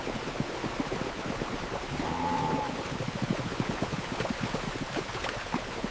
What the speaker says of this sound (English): The Camargue horses gallop.